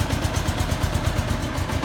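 A 1977 Honda GL 1000 motorcycle idles at a steady, even rhythm with a fast, regular low pulse from the engine, close and fairly loud, with no talking.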